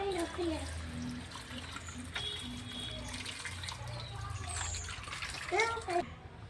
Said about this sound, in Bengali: চলো একটু ধুয়ে নিই পেয়ারাগুলো